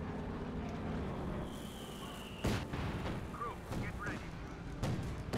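Muffled battlefield rumble from Company of Heroes 2 broken by several sharp, booming cannon shots from a Comet tank and 6-pounder anti-tank guns, spaced irregularly and moderately loud.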